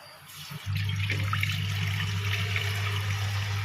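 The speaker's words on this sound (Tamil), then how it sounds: "வெறும் புளியை ஊற்றிக்கலாம்." Tamarind water pours into an empty cooking pot for a fish curry, a steady close splashing stream that begins abruptly and runs on evenly.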